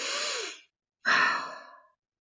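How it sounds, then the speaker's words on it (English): Slow, deep breaths close to the microphone, a soft airy exhale followed after a pause by a fuller breath that fades out, in a quiet room with no talk. "So take another deep breath in."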